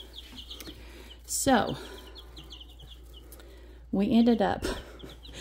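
A tiny baby chick peeps and clucks nearby in two short bursts, one brief call and then a longer run of rising cheeps, between quiet stretches while a person speaks briefly.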